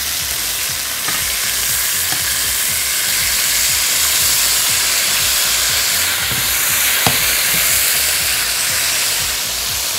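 Steak searing in a hot frying pan, a loud, dense and continuous sizzle with steady crackling hiss and an occasional sharp pop, close up and alone.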